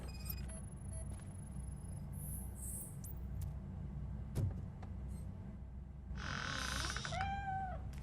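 In the Robocop Rogue City video game, a cat gives a couple of distinct meows near the end, clear over a steady low ambient hum, with a sharp tick and faint electronic tones earlier on.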